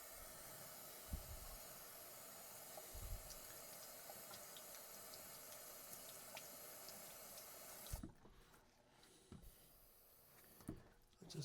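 A bathroom tap runs steadily for wetting the face before a straight razor shave, a faint continuous hiss of water into the sink with a few soft splashes, stopping partway and leaving quieter drips and handling noises.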